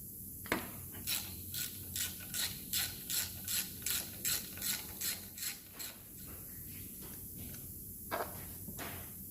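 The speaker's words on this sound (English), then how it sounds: "I've got to take this vacuum pump off now because there's the plunger that goes in there is covering one of the head bolts." A ratchet undoes bolts to free the vacuum pump on a VW Crafter engine, fast regular clicking strokes in a steady run of about a dozen pulls, close and clear, then a couple of isolated clicks.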